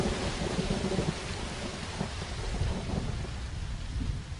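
Thunderstorm with heavy rain in the Sahara: dense steady rainfall hiss with low rolling thunder rumbling underneath throughout.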